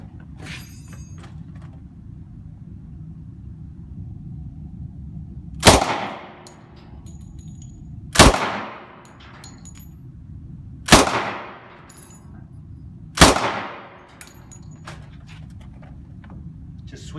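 Four single loud shots from a machine gun chambered in .45 ACP crack out, spaced about two to three seconds apart, each with a sharp onset and a short decay over a steady low background hum.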